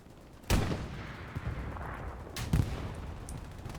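Gunfire from a Browning machine gun rings out in a nighttime match of the video game Hell Let Loose, with two sharp, heavy booming reports about two seconds apart, each trailing into a rumbling echo over a low background din.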